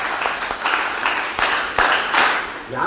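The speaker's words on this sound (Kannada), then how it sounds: "ಚಪ್ಪಾಳೆ" An audience of pre-university students at an NSS camp talk claps together in a short, dense burst of applause that rises and holds steady at close range.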